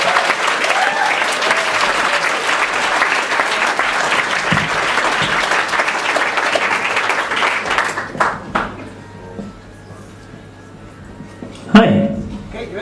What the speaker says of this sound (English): So can we have a big round of applause, please, for our next presenter, Mr. Mark Shahid?